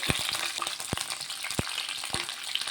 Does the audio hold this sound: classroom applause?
no